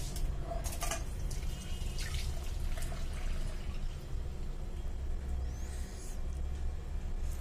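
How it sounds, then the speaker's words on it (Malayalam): Blended cucumber juice runs through a strainer with a quiet, steady trickle and scattered drips. There is no talking, only the close liquid sound throughout. "നമുക്കിതൊന്ന് അരിച്ചെടുക്കാം."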